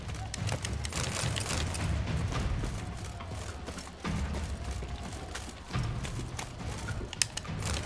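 Horse hooves clip-clop in the Witcher 3: Wild Hunt video game, a steady run of rapid hoofbeats over a low rumbling game soundscape, moderately loud with no talk.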